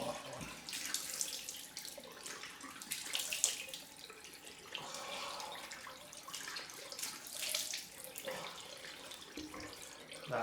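A water tap runs at a sink for a cold rinse after shaving, giving a fairly quiet, uneven splashing flow that swells and dips over the whole stretch, with no talking.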